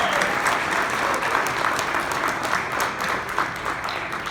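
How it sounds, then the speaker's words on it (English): Sustained applause from a dinner crowd for the waiters and staff at an evening event, dense steady clapping close by with a faint murmur underneath. "Round of applause for the staff."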